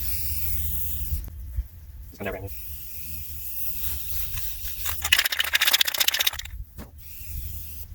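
Short hissing bursts of a nearly empty spray primer can, one longer spray in the middle, with faint rustling and handling noises between them.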